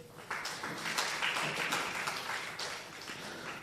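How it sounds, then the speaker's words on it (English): Applause from the audience at a live gathering of religious sisters, a steady patter of clapping hands heard from a moderate distance, alone and without talk. "A round of applause for sister."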